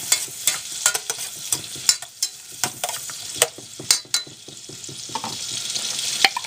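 Garlic with pepper sautés in a pan, sizzling steadily and up close while a spoon stirs it, with repeated sharp scrapes and clicks spread through the frying.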